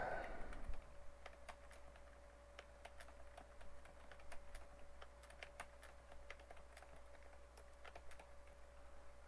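Steady computer keyboard typing during a live coding session, rapid light clicks in irregular bursts over a constant low hum, no talking.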